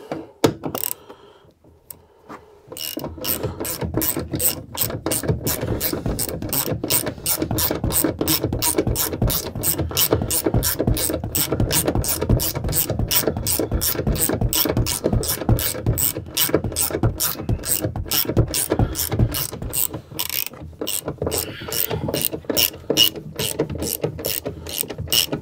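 A ratchet wrench tightens the bolts on the rear shock absorbers of a Renault Twingo 1, a long, steady run of rapid close clicks after a brief quiet start, with a short pause near the end.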